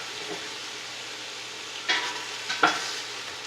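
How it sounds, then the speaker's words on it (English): Pork browning in a pan, a steady close sizzle and hiss of frying meat with a few brief stirring scrapes near the end and no talk. "still browning meat"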